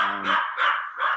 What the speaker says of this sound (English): nope, that's my dog